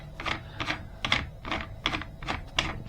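The diamond-knurled CO2 plunger of a Crosman 1077 RepeatAir air rifle is unscrewed by hand. About six close, rhythmic bursts of gritty rasping turn at a steady pace, with no voices.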